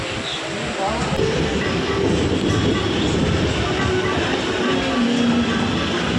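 A train pulls into a station, a continuous loud low rumble and rolling rush filling the scene up close, with a faint tone drifting in partway through.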